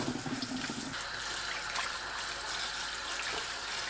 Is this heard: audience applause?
no